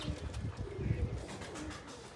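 Low, soft pigeon cooing repeats in short throaty pulses, quiet and close, with some faint background noise.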